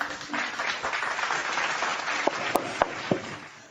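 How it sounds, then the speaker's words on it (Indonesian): An audience claps steadily together at a talk, a dense roll of applause that carries on throughout, with a few louder claps near the end. "Tepuk tangan untuk kita semua."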